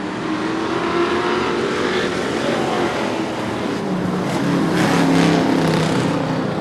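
Street-tire race cars at a short track roar as they take the green flag for an 8-lap qualifier, a dense, continuous wash of engines building and surging, with the pack swelling louder near the end.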